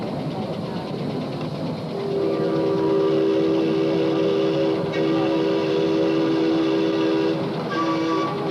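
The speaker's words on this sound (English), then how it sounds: "Now here comes Ernie over the bridge with his train, Ernie Allen from Vancouver." A train rolls over a bridge at an outdoor railway meet, with a rumbling run and sustained whistle tones sounding several times in the middle distance amid crowd noise.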